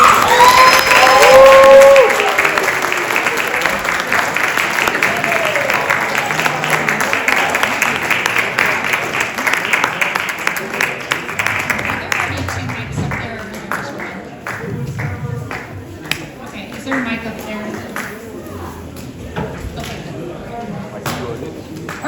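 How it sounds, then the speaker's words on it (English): Audience applause and cheering as a debate team walks onto a stage for a plea-bargaining showcase, a loud burst of clapping from the crowd that slowly thins into scattered claps and chatter, with people talking throughout. "Let's give them a round of applause."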